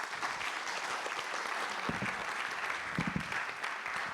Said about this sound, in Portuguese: E uma salva de palmas para o painel.